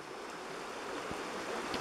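A babbling brook on a farm, running again as algae washes out, gives a steady, faint rush of flowing water with no other sound.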